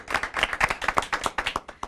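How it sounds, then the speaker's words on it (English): An audience claps for a debater on a live Indian TV debate show, a short burst of quick, closely spaced hand claps from a modest crowd lasting under two seconds. "a round of applause for him"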